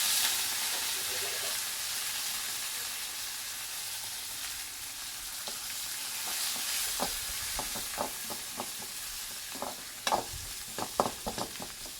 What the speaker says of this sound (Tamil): எண்ணெய் ஊற்றியாச்சு எண்ணெய் காஞ்சதும் இப்போ வந்து வடகம் சேர்த்துக்கலாம்